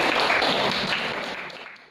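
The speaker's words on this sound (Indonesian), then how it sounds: "Yang Mariana, tepuk tangan sekali lagi" Schoolchildren in a math class give another round of applause, a full burst of many clapping hands that gradually tapers off and fades out near the end.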